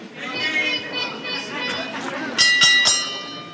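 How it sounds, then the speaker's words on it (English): A ring bell at an independent women's wrestling match, clanging several times in quick succession over crowd chatter in an indoor venue. "And the bell has been rung here on this women's title, or not women's title match"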